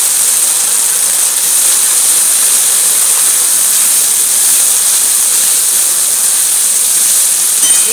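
Ginger, garlic and cumin frying in a pan for a spicy halua fish curry give off a steady, loud, even sizzle that holds without a break, with no talking.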